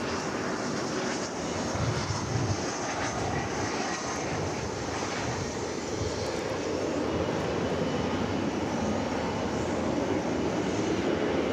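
An airliner takes off at DFW Airport, its jet engines giving a broad, steady roar that stays loud throughout at a moderate distance, with a faint voice now and then.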